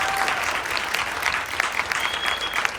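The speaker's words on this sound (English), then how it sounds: "I think all of them deserve a huge applause to come forward." A large audience at a university science and arts slam claps steadily for the participants, a dense, continuous wash of applause with no talk over it.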